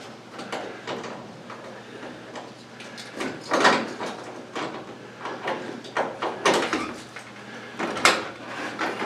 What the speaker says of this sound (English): Swing that door wide open, Ed.